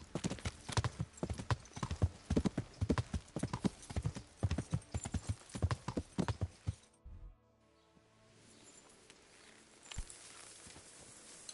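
Horse hooves clip-clopping in Kingdom Come: Deliverance on PS5, a brisk, loud, regular run of hoofbeats for about seven seconds that stops abruptly, leaving quieter ambient sound afterward.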